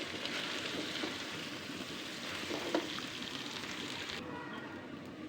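Vegetables and rice for vegetable pulao fry in a hot pan, giving a dense, steady sizzle with light crackle and occasional stirring scrapes, continuous and fairly close.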